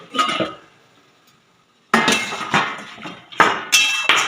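A lid comes off a simmering pot of Bengali rohu fish curry with a sharp metallic clank. After a brief quiet, several more close, ringing clinks of metal on metal follow.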